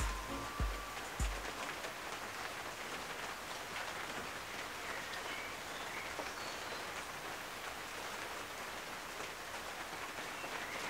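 Steady rain falling outside, a dense even hiss of drops on surfaces that carries on unbroken, with a couple of brief knocks right at the start.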